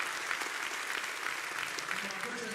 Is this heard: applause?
yes